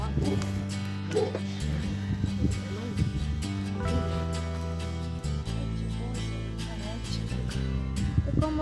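Alabai dogs bark and puppies whimper and yip on a ranch over steady background music, with people talking nearby.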